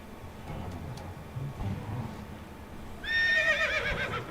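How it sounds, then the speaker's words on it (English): A horse in the medieval life-sim game Medieval Dynasty neighs loudly in the second half, a clear whinny rising over a bed of low ambient game noise and faint hoof sounds. "Yeah, I hear you, horse."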